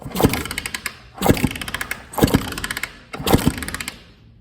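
A disassembled 2000 Suzuki RM250 dirt bike engine being kicked over to test for spark, four separate bursts of rapid mechanical clattering, each cranking spell about a second long with short pauses between them.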